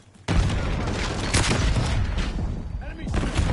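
A frag grenade explodes in a combat video game, a sudden loud blast followed by continuous gunfire and rumbling battle noise, with voices calling out under the chaos.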